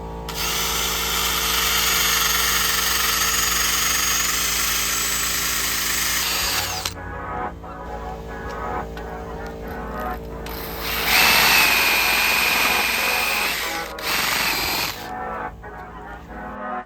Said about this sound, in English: We're gonna wire brush all this off